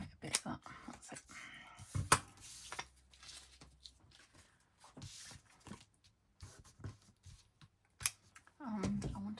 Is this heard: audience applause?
no